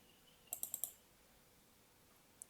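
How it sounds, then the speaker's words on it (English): Four quick, faint mouse clicks in a row on a computer's run button, followed by one more soft click after a pause, in a quiet room. "if you click on the run button"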